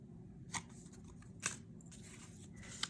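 A few quiet, crisp snips of scissors trimming paper stickers for a handmade card, three short cuts spaced about a second apart over soft background hiss, no talking.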